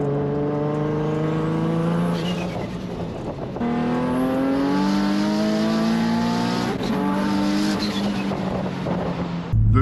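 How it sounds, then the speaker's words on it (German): Single-turbo Nissan 350Z engine revving hard and continuously, a loud raspy tone rising and falling through several pulls, with tire noise, alone throughout. "Ich blende euch da gerne mal ein paar Soundaufnahmen ein, gerade vom Single-Turbo-Umbau."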